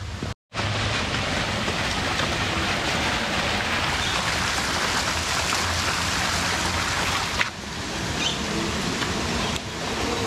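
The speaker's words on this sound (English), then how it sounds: "out of the rain." Rain falls steadily in Kandy, Sri Lanka, a dense, even hiss of drops on surfaces close by, with a sharp cut at the start and a faint thump later on.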